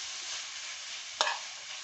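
Liver frying in a pan, a steady bright sizzle holding throughout, broken near the end by one short scrape or stir of the pan.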